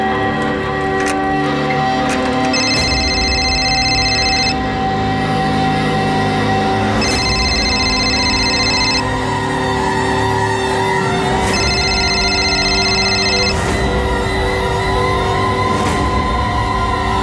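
A telephone rings unanswered, three electronic ring bursts of about two seconds each separated by pauses, over a dense, sustained background of music.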